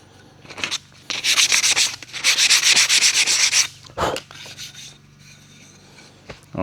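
Hand sanding a black walnut soap dispenser holder: loud, close rubbing strokes in several bursts, with short pauses and a few knocks between them.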